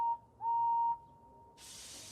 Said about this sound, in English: Henry blew his whistle